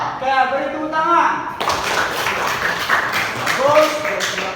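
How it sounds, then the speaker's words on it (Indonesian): A classroom group of students bursts into hand clapping, a brisk spell of many overlapping claps that follows a spoken voice and lasts a few seconds, with talk returning near the end. "Oke, beri tepuk tangan."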